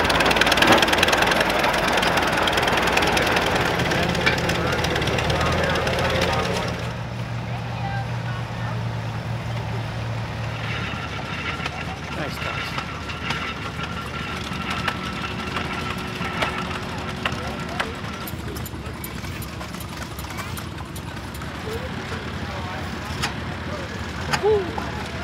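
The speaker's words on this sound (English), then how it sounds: "This is a 1913 Fuller & Johnson. It's an 8 horsepower" A 1913 Fuller & Johnson 8 horsepower antique gas engine runs at an outdoor antique engine and tractor show. The engine thumps steadily in the background under crowd noise and nearby talk.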